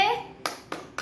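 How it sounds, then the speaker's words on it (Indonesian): A group of women claps the 'tepuk wow' chant at a health and nutrition gathering, with three sharp, evenly spaced claps ringing out close by after a brief voice at the start. "Kita beri tepuk wow untuk Ibu Yuni ya bu ya."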